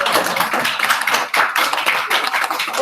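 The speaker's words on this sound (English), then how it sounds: "Can we give Naomi another clap, please, everybody?" A school assembly audience claps steadily for a student, a dense, continuous patter of many hands filling the hall for about three seconds.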